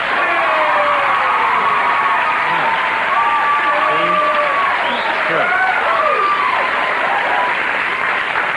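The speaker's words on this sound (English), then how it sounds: "you had no trouble applauding for her" A studio audience at a comedy talk show applauds a guest, continuous loud clapping mixed with whoops and cheering voices throughout.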